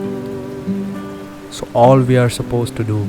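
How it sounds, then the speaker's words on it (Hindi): Heavy rain falls steadily during a red alert on the Kedarnath pilgrimage route, a continuous hiss beneath a person talking close by. "Char Dham remains under the red alert of heavy rainfall."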